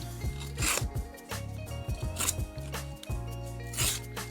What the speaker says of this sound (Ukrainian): Гострий ніж буде його різати. Тупий ніж буде його рвати.